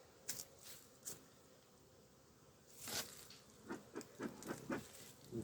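Honey bees swarming thickly around a hive, faint buzzing with several louder passes as individual insects fly close, the rest a soft hissing background.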